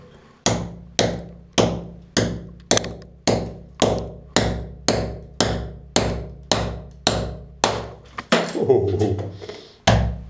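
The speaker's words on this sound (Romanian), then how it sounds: "Vikings, clasică, doar un ciocan și o daltă" Hammer blows on a chisel knocking bathroom wall tiles off, a steady series of about fifteen sharp, loud knocks spaced under a second apart, with a brief scraping crash near the end.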